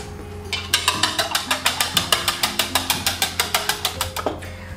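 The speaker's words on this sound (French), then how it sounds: "je suis en train de battre mes blancs en neige à la main" Egg whites beaten by hand with a whisk in a bowl, a fast steady rhythm of about four or five strokes per second running for several seconds, close and fairly loud with a faint background hum.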